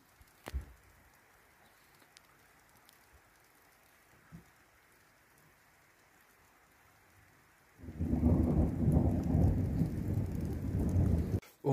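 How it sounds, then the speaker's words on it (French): Thunderstorm on 11 August 2022, the fourth of the day: a few faint distant rumbles and cracks over a quiet backdrop, then heavy rain and thunder suddenly swell into a loud, dense roar for the final seconds. "l'orage s'évacue. Donc voilà. Quatrième orage de la journée."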